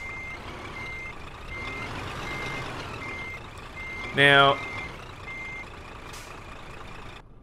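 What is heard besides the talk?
truck reversing beeps while turning around, Euro Truck Simulator 2 video game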